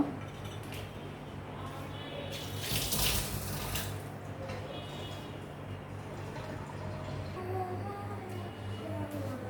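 Cut pieces of crab are washed under a running tap, a steady wash of water with a louder splashing surge partway through and faint clinks of handling.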